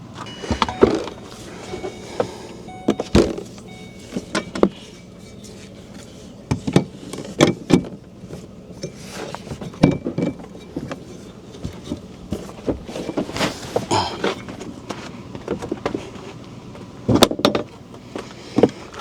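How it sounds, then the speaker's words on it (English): An SUV with corroded suspension bushings squeaks and creaks repeatedly while moving, with irregular close squeals and knocks recurring throughout over a low rolling background. "We sure are doing a lot of squeaking."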